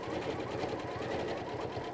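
Sewing machine stitching a quilt piece with a deep oval mini arc template, a steady fast mechanical whir with rapid needle pulses, continuous and fairly quiet, with no talking.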